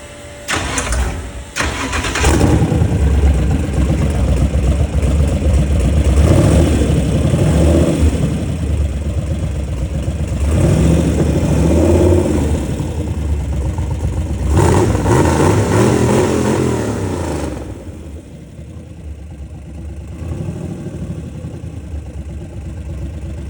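A USFRA race car engine cranks and catches near the start, then roars loudly with revving and throttle blips for over fifteen seconds before dropping to a rough, lower idle.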